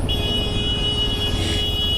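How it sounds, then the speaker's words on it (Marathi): Night road traffic on the Nashik highway, still under construction, makes a continuous rumbling wash of passing vehicles with a faint high whine, fairly loud and steady, with no voices. "बघा बघा ट्रॅफिक बघा"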